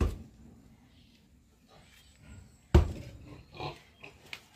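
Pigs grunting in their sleeping pen on a farm where hollow-block flooring is being laid, with a sharp louder burst of oinks midway after low, faint grunting.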